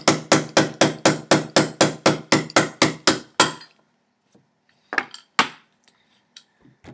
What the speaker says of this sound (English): So take your hammer, get your punch in there.